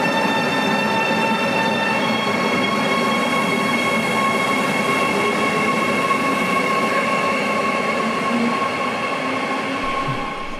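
A modernised double-deck regional train with a cab car and a class 147 electric locomotive at Berlin-Gesundbrunnen gives off a loud, steady rumble with a sustained electric whine, holding even throughout and easing slightly at the very end.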